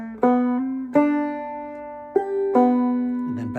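A short clawhammer banjo phrase from the tune "The Girl I Left Behind Me", bright plucked notes with hammer-ons on the third and second strings, picked in an uneven lilting rhythm, close and clear with no talk.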